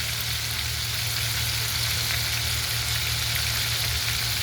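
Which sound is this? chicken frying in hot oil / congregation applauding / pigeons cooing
chicken frying in hot oil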